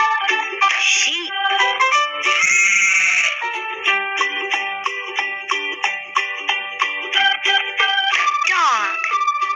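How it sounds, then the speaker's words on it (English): A sheep bleats loudly once in the middle, with a shorter bleat near the end, over cheerful, steady background music. "Sheep."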